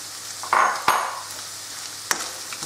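Finely chopped garlic, three large cloves, stir-fried in a pan for a chicken noodle stir fry: a close sizzle with a couple of loud scraping bursts of a spatula, then a quieter hiss and one more stir.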